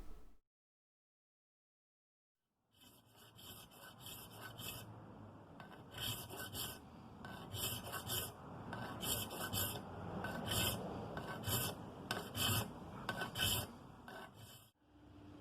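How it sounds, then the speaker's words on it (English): A hand file rasps against a wooden saw handle for a dovetail saw, with steady back-and-forth strokes repeating in a rhythm. The filing is close and clear and follows a brief silence. "I used the bandsaw to roughly cut the shape, then hand filed it to fit."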